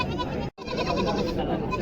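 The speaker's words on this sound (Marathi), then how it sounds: "ही बिटल शेळी खरेदी केलेली आहे" A Beetal goat bleats at a busy goat market in Bodhegaon, a nearby wavering cry broken by a short pause amid background crowd noise.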